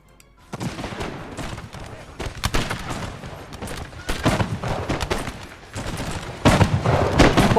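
Artillery and musket fire in a Napoleon: Total War battle for Moscow, dense overlapping volleys and booms rolling continuously, loud and near, with talk underneath.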